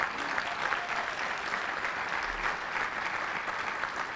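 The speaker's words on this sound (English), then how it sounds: "round of applause for that bike share program that launched this day" Round of applause at the 2014 Indianapolis Sustainability Awards for a newly launched bike share program, an even, sustained burst of many hands clapping in a hall with no speech.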